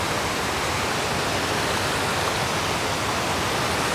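Water spilling over the Pocharam Dam spillway: a continuous, loud, broadband roar of falling water, steady throughout with no talk.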